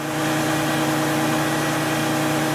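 A 2003 Ford Windstar engine idling steadily at about 1180 RPM, a smooth, even low hum with a fine regular pulse, heard close and alone, without talk.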